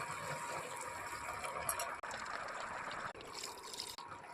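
Water is poured into a pan of frying mixed vegetable curry, making a faint, continuous trickling and sizzling wash with a few brief breaks.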